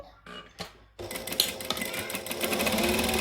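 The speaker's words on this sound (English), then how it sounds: "I'm going to top stitch 1/8 of an inch each side of that seam with a 4 stitch length" A sewing machine top-stitches a fabric seam at a 4 stitch length, a few short stop-start bursts giving way to a steady, close, rapid mechanical whirring run.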